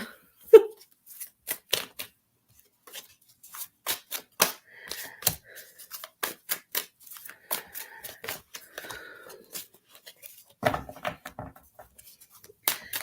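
Tarot cards are shuffled by hand in irregular bursts of quick, crisp riffles and taps, close and fairly quiet, with short pauses between them. No one speaks.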